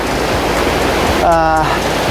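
Rushing water from a stream flowing toward a waterfall on a Connecticut outing, a steady loud broadband roar throughout, with a brief tonal flutter partway through.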